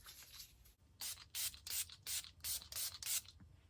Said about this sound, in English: I am taking also by Catrice the Prime and Fine Dewy Glow Fixing Spray